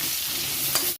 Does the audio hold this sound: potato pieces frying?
yes